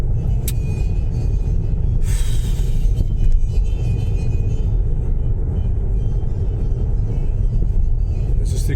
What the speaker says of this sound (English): There's a big truck right there, guys.